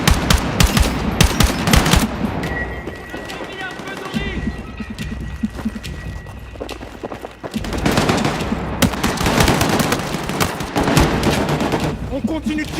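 Bursts of automatic gunfire and single shots in the Battlefield 6 video game, loud and dense at the start, easing mid-way, then heavy firing again, with voices shouting over the combat.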